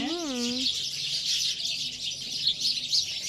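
Sparrows visiting a home, gathering where rice is kept, with a dense, continuous high chirping chorus nearby, while a person speaks briefly at the start.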